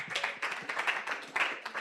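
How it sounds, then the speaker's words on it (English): An audience at a disability-inclusion gathering in Nigeria gives a round of applause, steady close-up clapping from many hands with no talking over it. "Put a round of applause for yourselves."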